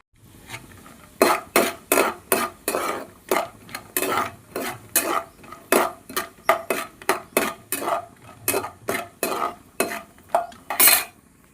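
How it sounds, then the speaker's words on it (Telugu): Bombay semolina roasting in ghee, stirred with a utensil scraping a metal pan in a quick, regular series of loud scrapes and clinks, close up with no speech. "జీడిపప్పు వేయించిన నేతిలోనే ఇదిగోండి బొంబాయి రవ్వ పోస్తున్నాను"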